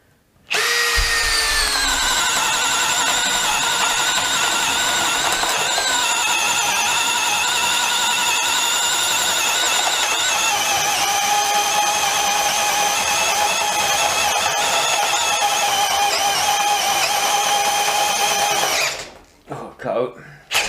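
A Makita HP332 12V drill bores into tough decking with a loud, sustained motor whine and squeal. The strain holds for nearly twenty seconds before cutting off abruptly, followed by a few light knocks.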